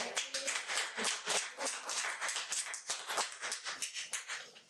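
An audience at a school board meeting applauds in a steady, dense stretch of clapping that lasts several seconds, moderately loud and fairly close, with no voices over it.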